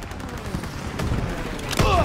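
Dense, continuous gunfire with rapid shots and distant booms fills a Call of Duty: WW2 battle, loud and close, ending with a heavier impact.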